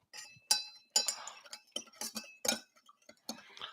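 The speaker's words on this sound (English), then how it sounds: "do I have a spoon here to stir it?" A bar spoon clinks against a cup while stirring dark roasted coffee with sugar, giving a series of sharp, close metallic taps at an irregular rhythm with brief pauses between strikes.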